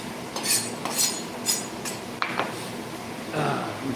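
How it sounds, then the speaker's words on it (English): A knife chops ingredients for steak tacos on a cutting board in a series of sharp, evenly spaced knocks, followed by a few clinks and light kitchen clatter. "We're just gonna start chopping."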